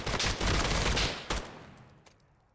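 A loud, close burst of rapid gunfire in a VR tactical shooter, continuous shots for about a second followed by a single heavier blast, then a quick decay and a faint click, with no talking.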